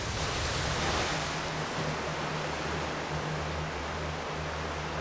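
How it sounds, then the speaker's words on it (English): Ocean waves surge in a continuous, loud wash of surf around a sailing ship at sea in Like a Dragon: Pirate Yakuza in Hawaii, steady and full, with a low rumble beneath. "These are some good waves."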